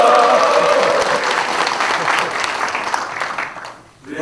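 A crowd at a political party budget policy meeting claps loudly with cheering voices mixed in, a dense continuous ovation that dips briefly near the end before picking back up.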